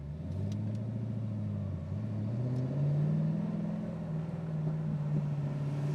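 A naturally aspirated 750 hp 416 engine idles steadily at 1,000 RPM with a smooth, low rumble, close by, the pitch rising slightly and then holding even throughout.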